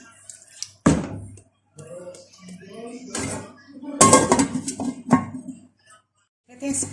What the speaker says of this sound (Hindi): और मैं लीड लगा दूंगी